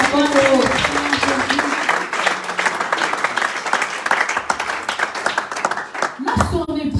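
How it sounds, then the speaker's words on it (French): A church congregation claps and cheers in praise of the Lord at a closing service, loud continuous applause with a voice rising over it at the start and shouting again near the end. "acclame pour le Seigneur"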